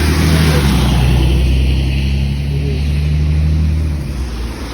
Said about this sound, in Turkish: Otobüs arkadaş.